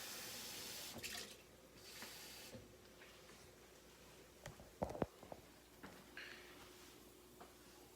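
A cup of water pours and splashes faintly into a cooking pan of coated rice for jeera rice, with a few louder clatters midway and quiet running water throughout.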